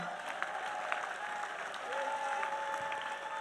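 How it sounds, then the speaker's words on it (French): A church congregation gives a clap offering, steady applause heard at a moderate distance with scattered sharper claps and a faint sustained tone beneath, growing slightly fuller toward the end. "Offrande d'acclamation. Clap offering."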